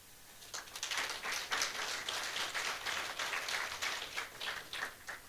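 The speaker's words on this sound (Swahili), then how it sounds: "pigie Bwana makofi mazuri" Sustained applause from a church congregation at a Sunday service, dense overlapping claps filling the space at a steady, fairly loud level for several seconds.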